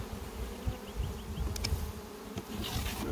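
Honeybees buzz in a hive around drone brood in the bottom box, a close, soft, continuous hum with occasional light clicks and knocks, no talking.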